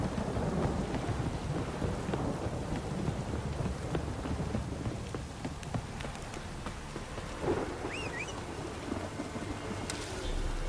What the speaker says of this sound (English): If it don't stop rain, I'll rot off.